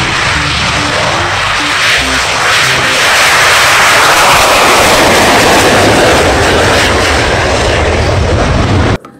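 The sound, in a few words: toy fighter jet aircraft sound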